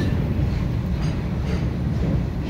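An empty goods train rolls through Monigram station in Murshidabad, beside a thermal power plant, a loud, steady low rumble of wagons passing close by with a faint rhythmic clatter.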